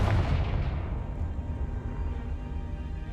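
A Confringo blasting spell is cast in Hogwarts Legacy, a heavy explosive boom with a deep rumbling roar that starts loud and then keeps booming through the whole stretch.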